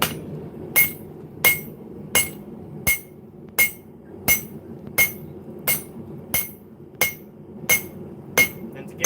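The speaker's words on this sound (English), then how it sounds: "you just flip the hammer over, flatten them out, like the hammer itself" A hammer strikes a hot axe head on an anvil at a forge in a steady, evenly spaced series of about thirteen sharp ringing blows, loud and close, with no talking.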